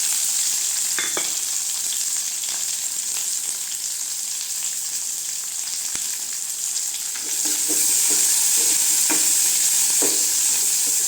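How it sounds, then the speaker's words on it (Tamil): Chopped onions sautéing in a hot pan with curry leaves while cooking green field bean kuzhambu, a steady loud sizzle with occasional stirring scrapes and clinks of a spoon. "வெங்காயம் நல்லா வதங்கட்டுங்க"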